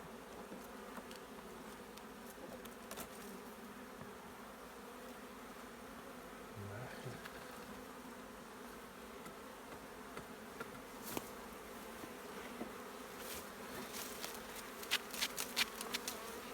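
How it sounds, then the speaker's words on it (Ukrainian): Honey bees buzz in a dense, steady drone, close by, with occasional clicks and bumps, as honeycomb is cut from a log hive. "бджоли багато"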